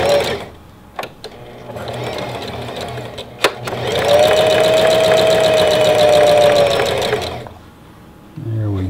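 A Singer Heavy Duty series sewing machine, freshly timed and oiled, runs steadily for about three seconds with a whirring, buzzing motor and rapid needle stitching, preceded by a few sharp clicks and handling sounds.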